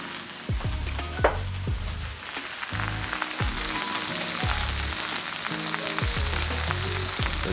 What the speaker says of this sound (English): Garlic in the center of the pan, a little bit of olive oil right on top of the garlic.